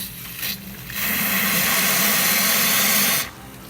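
A La Spaziale Lucca espresso machine hisses and sputters steadily as hot water dispenses, a loud continuous rush lasting a couple of seconds before cutting off.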